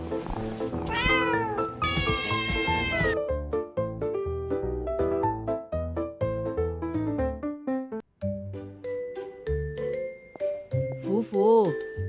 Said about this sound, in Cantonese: 貓貓店長